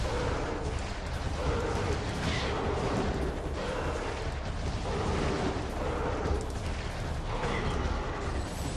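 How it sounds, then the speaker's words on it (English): Missile explosions in Metroid Prime 2, a dense string of booming blasts and rumbling bursts in a game battle, loud and continuous under background game noise. "That was like 9 missiles."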